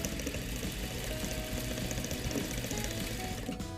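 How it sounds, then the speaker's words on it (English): Sewing machine stitching a fabric face mask straight over pins, running in a steady continuous whirr with a dense rapid needle rhythm, close and alone without talk. "I'm doing a cardinal sin of stitching over my pins"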